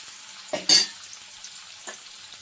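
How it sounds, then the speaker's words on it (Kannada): Brief scraping stirs in a pan, two quick bursts close together, with a faint oily sizzle underneath as masala fries, and a softer scrape later. "ಇದು ಸ್ವಲ್ಪ ಎಣ್ಣೆಲಿ ಫ್ರೈ ಆಗಲಿ"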